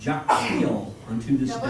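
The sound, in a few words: sneeze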